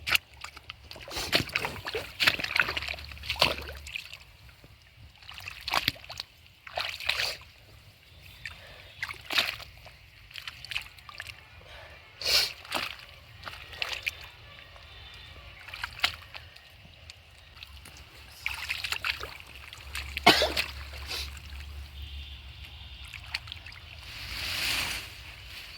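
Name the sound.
water sloshing while irrigating a potato field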